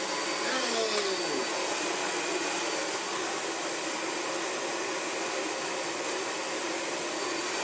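A Dyson vacuum cleaner runs with its brush roll spinning, giving a loud, steady high-pitched whine and airy roar that stays constant from start to finish.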